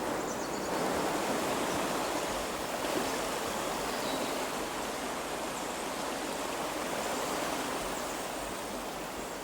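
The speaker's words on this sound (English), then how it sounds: "I hear a waterfall." A waterfall in the video game Kingdom Come Deliverance 2 gives off a steady, broad rush of falling water that holds loud and unbroken throughout, with no talking.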